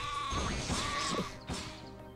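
Sheep bleating in the Spyro: Enter the Dragonfly video game after being zapped, a loud wavering bleat at close range followed by a second shorter cry, with game sounds behind.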